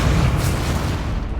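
A Confringo spell explodes in the video game Hogwarts Legacy, a loud, sustained booming burst with rumbling low end that fades slowly over a second or so.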